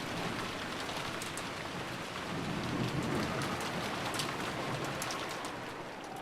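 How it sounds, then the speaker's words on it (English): Steady rain pours in a dense wash of noise, with a low stormy rumble beneath it, continuous and fairly distant with no voices. "there was no reply, only the howl of the wind and rain"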